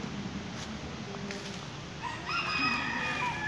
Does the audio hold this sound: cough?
no